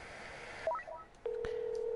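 Telephone keypad tones sound in a video game as a quick run of short beeps, followed by one longer steady tone, all fairly quiet.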